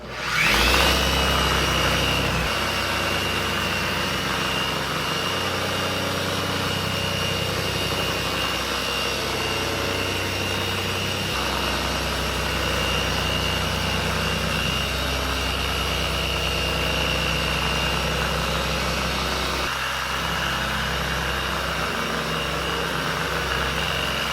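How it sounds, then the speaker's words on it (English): A DIY Detail 5-3 Stack polisher runs steadily at speed 4, giving a loud, continuous motor whir and hum that holds an even pitch throughout, close by and with no talking. "Speed 4, and we can just polish with speed 4 going here."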